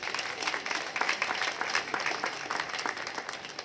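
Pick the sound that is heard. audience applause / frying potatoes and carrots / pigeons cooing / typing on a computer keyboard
audience applause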